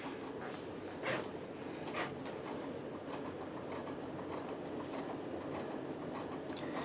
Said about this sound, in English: this is when the rattling becomes the most pronounced. Because of the aforementioned brackets scraping the motor housing